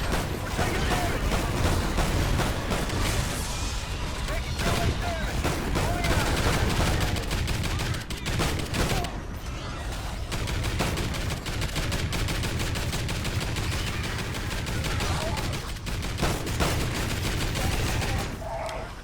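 Continuous dense gunfire in the Call of Duty Ghosts Extinction co-op game, with rapid automatic bursts blending into an unbroken loud barrage throughout, and a voice faintly present under the shooting.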